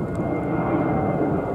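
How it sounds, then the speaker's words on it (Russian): An airplane passes low overhead near a reservoir, its engine a broad, steady roar filling the short stretch, loud and without talk. "Самолет тут летает так низко."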